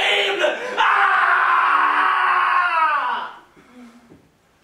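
A man screams loudly in a French stage play, one long, strained cry that holds for about three seconds, then breaks off into quieter vocal sounds.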